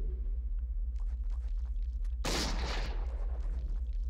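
Gunfire in the video game Eternal Darkness: Sanity's Requiem: one loud, sharp shot bursts out midway through a steady low background hum, its echo tailing off over the next second.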